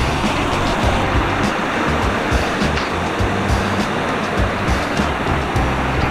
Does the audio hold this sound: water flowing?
yes